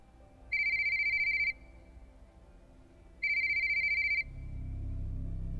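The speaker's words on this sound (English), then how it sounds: "My phone rang." A phone rings twice with a bright electronic trill, each ring about a second long, separated by a pause, fairly close with a low hum behind.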